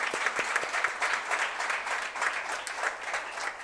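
A crowd at a college convocation applauds steadily, a dense wash of clapping that holds evenly from start to finish.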